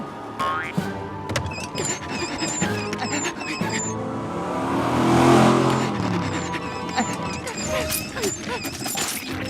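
A pedal-powered car race in the George of the Jungle cartoon, with whooshing engine-like noise swelling to a peak midway amid springy boings and busy cartoon effects.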